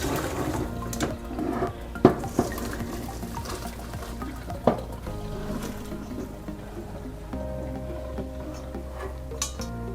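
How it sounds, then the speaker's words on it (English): Cooked glass noodles for japchae being rinsed with cold water in a kitchen, with close running and splashing water, a few sharp clinks of a pot or strainer, and sloshing handling noises throughout. "And then rinse it with a little bit of cold water."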